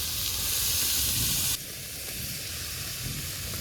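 Chopped cabbage tipped into a hot pan of cooked-down spices in a village-style kitchen, a loud sizzling hiss that abruptly drops to a softer, steady frying crackle, with no talking.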